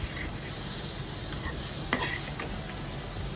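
Spices are stirred into vegetables sizzling in a pan for cauliflower fried rice, with a steady close frying hiss and soft scraping of the spoon, plus one brief clink.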